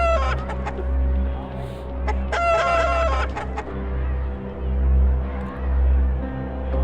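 Chickens cluck and a rooster crows in the video game Doom and Destiny, a string of short clucks and cries over looping game music, with no talking.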